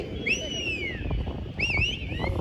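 Two rising and falling whistles, the second arriving after a short pause, sound out over steady crowd and wind noise at an outdoor cricket tournament final, as a player whistles from the field.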